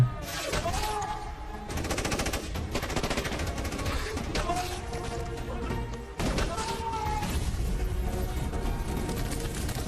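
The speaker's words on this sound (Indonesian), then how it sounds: "tapi perwira penjaga menyuruh anak buahnya untuk menembak Hasan hingga tewas" Dense, loud gunfire bursts through a sniper film's battle scene, with sustained fusillade-like rattling and a sharp break near the six-second mark, backed by dramatic soundtrack texture.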